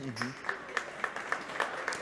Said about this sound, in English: A soft clap from the Mosinee crowd.